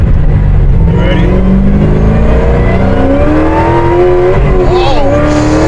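A supercharged Camaro running a 2.9 Whipple at about six pounds of boost accelerates hard, its loud engine climbing steadily in pitch through the gear with a brief dip near the end, roaring close by.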